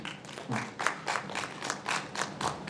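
Audience applause at a youth awards ceremony in a hall, a fairly faint patter of scattered clapping with distinct rhythmic surges about every third of a second, moderately distant.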